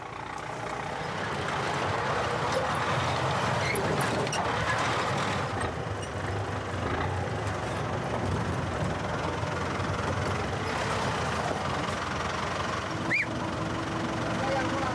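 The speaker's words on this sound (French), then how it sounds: "Le groupe électrogène qui sert de moteur à la Chevrolet n'est pas assez puissant dans la caillasse." A Chevrolet taxi powered by a generator engine strains up a rocky, stony slope in Cuba, its low, steady drone rumbling continuously with scattered knocks and rattles, while voices talk faintly in the background.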